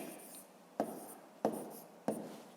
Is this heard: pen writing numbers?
yes